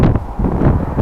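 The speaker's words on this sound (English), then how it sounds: "Sorry about the wind." Outdoor wind buffeting a microphone, a loud, continuous low rumble with uneven gusting swells and no other sounds.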